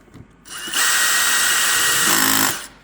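A power drill tightening a fastener while installing a tank bag on a LiveWire One electric motorcycle: one close, steady high-pitched whirring run of about two seconds that slows briefly near the end before stopping.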